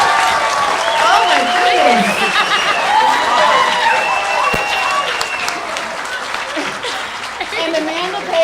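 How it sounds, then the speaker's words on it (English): An audience at a GED graduation ceremony applauds the graduates, a sustained crowd of clapping hands under scattered chuckles and a few voices talking nearby. "Please join me in giving our graduates a round of applause."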